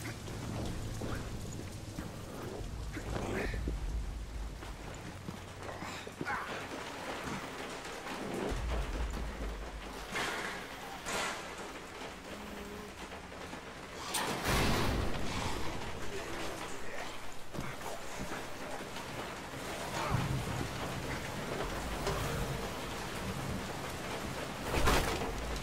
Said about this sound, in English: Damn storm.